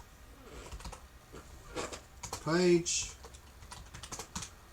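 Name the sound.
typing on a computer keyboard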